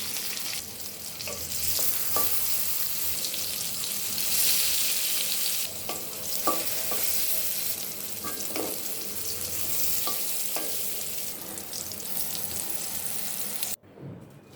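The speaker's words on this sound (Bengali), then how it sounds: "এখন দুটো পটল ভেজে নেব" Pointed gourd (potol) frying in hot oil, a continuous bright sizzle with intermittent stirring clatters and knocks, close up, cutting off abruptly near the end.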